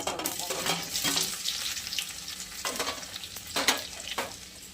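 Cumin seeds and garlic frying in oil in a pan, a soft continuous sizzle with a few scraping stirs of a spoon, fairly faint and with no talking.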